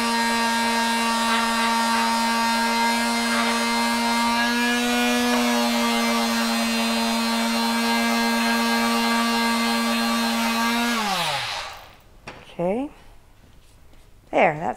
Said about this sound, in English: Just gonna sand this down so it's a little clearer.